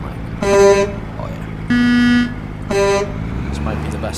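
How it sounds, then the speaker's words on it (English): Three loud blasts of a truck horn in American Truck Simulator, the middle one held longest, each a bright tonal honk over a low idling engine rumble. "What's the horn sound like?"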